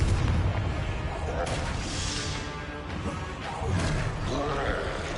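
Spell blasts erupt in Hogwarts Legacy combat, a dense series of booming crashes and impacts over a continuous rumbling din, with several sharper bursts spread through the clip.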